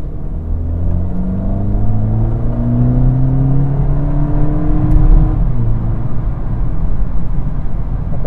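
A 2023 VW Polo GTI engine running in sport mode gives a steady, full drone whose pitch slowly climbs and then settles, with a close, constant rumble throughout.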